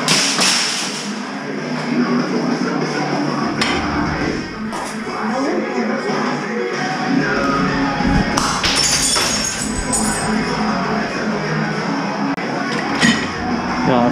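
Objects being smashed in a rage room in Glasgow, with sharp cracks, thuds and breaking impacts scattered irregularly at close range, mixed with people talking and shouting.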